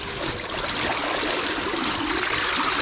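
Water from a rice field rushes out through a drain in a steady, continuous broadband wash, close and fairly loud, with no voices over it.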